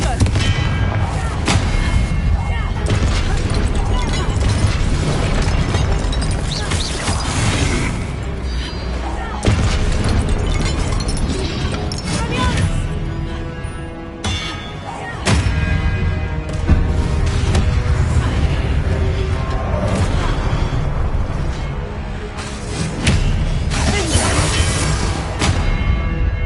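Repeated Confringo blasting spells in Hogwarts Legacy, loud booming explosions with crackling crashes bursting again and again over dense combat noise and music, with a voice calling out spells.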